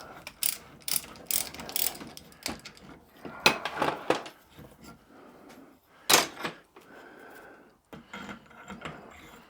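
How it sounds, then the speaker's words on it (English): Adjustable reamer with pilot working through steam waggon valve linkage on a Sentinel steam waggon, giving repeated close ratcheting clicks and metallic scraping in irregular bursts, with brief pauses between turns. "the adjustable reamer and the pilot make sure that everything is nicely lined up"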